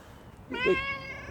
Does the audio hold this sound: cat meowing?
yes